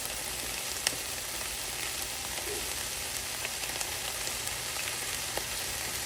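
Garlic and blackening spice sizzling in a pan for pineapple chicken tacos; a faint, steady crackling hiss with occasional small pops, continuous and undisturbed.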